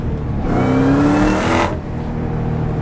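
A supercharged Ford SVT Cobra engine roars loud and close at wide open throttle, a rising whine building for about a second before the throttle drops back to a lower idle drone, no talking.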